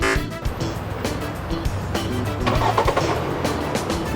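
A Chevy Equinox engine revs on a car lot, a short, rough, mid-level burst of engine noise with no talk over it.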